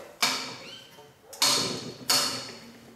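Three sharp metallic knocks, spaced about a second apart, each with a brief ringing decay, as front fork tubes of a 1990 Honda XLR250R are yanked apart like a slide hammer.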